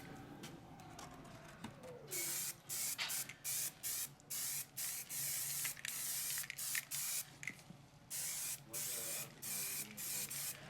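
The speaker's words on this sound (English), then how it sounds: "Now I use a very dark spray, so I need to get into every recess because I need to dry brush on top of it." Dark spray paint hissing from an aerosol can onto tabletop wargaming terrain, in repeated bursts of varying length separated by short pauses, close and steady.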